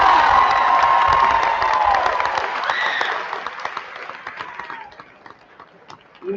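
Applause and cheering from a school assembly crowd for a teacher, loud and dense at first with shouts mixed in, then thinning into scattered claps and fading voices.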